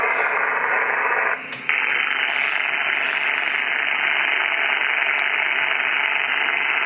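Dense, steady hiss and crackle of radio static on a FlexRadio 6600M with the noise blanker off, loud and unbroken apart from one brief dropout, with no voice over it.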